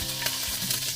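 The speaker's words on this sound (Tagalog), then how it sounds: "Ay, nag-init na ho si Insan ng kawali. At paglalagay siya ng mantika," Cooking oil in a heated kawali, sizzling with a dense continuous hiss close by, partly masked by a low steady musical hum underneath.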